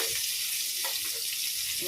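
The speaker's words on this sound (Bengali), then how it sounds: "এখানে একসাথেই ভেজে নিচ্ছি আমি পটল আর কাঁকরোল" A steady hiss of pointed gourd and teasel gourd frying in oil, with small crackles throughout.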